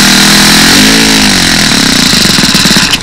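A model engine fitted with a tuned pipe runs loud and close at throttle with a buzzing, high-pitched whine, its pitch rising and falling briefly as the throttle is adjusted.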